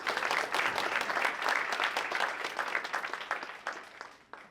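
A crowd at a presidential portrait unveiling ceremony applauds in a dense, steady burst of many hands that holds strong for several seconds, then thins out and fades toward the end.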